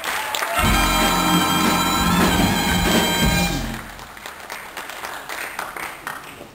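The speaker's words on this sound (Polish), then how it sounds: "Wielkie brawa przed Państwem finałowa dwudziestka." Applause from a pageant audience greeting the twenty finalists of the Miss Polonia 2008 beauty contest, loud and sustained for a few seconds over stage music before fading to a lower murmur.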